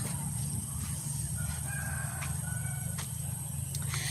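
Chickens clucking and a rooster crowing nearby over a steady low hum, with short calls scattered throughout.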